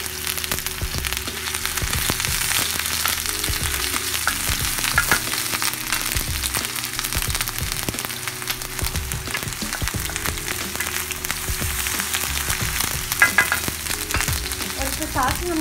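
Steady, dense sizzling of ginger garlic paste frying in hot oil for tawa chicken, continuous and fairly close, with occasional stirring scrapes and no talking.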